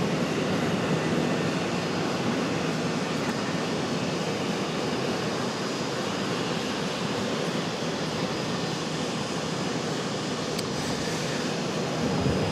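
A jet airliner comes in to land at Charlotte airport, and its steady, broad engine roar fills the whole stretch, loud and unbroken like rushing wind.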